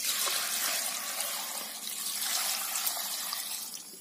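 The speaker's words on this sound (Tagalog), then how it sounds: "Ngayon, lagyan natin ng tubig para sabaw." Water poured into a cooking pot to make soup broth for a Filipino dish, a steady splashing, hissing stream heard close and continuous with no talking.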